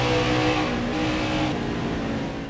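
NASCAR race car engine in the video game NASCAR Heat 4 at Pocono, a loud steady roar with harmonic tones that climb as the car accelerates, continuous and close with no talk.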